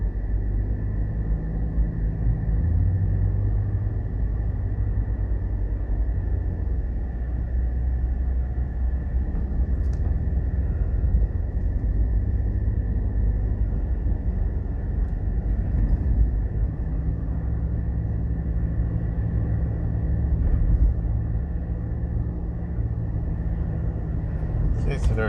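A car drives steadily along a road leaving Clarendon Park on the May Pen Bypass, with a continuous loud engine and tyre rumble throughout and a steady mid-pitched hum.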